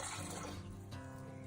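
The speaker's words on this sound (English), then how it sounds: "So first she's adding water." Water poured into a pot over an open fire fuelled by cow dung and wood, the first step in making chai in a village kitchen; a steady, close splashing pour lasting throughout.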